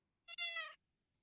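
A pet cat gives a single short meow, close and clear against a quiet room, with a tiny break at its start.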